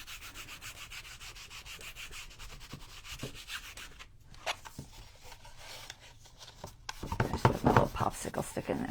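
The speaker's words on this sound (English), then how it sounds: "Popsicle stick in there so I could rub it" A popsicle stick rubs firmly over a flowers-and-bicycles rub-on transfer, giving a steady, close scratchy rasp that continues throughout and grows louder and busier near the end.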